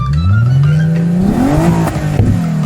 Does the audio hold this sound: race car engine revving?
yes